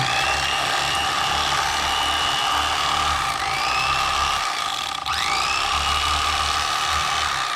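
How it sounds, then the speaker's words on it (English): Electric fillet knife buzzing steadily as it slices a crappie along the backbone, a continuous close, loud motor whine with reciprocating blade rattle and no talking. "when you're using an electric knife, you can take the ribs and everything off"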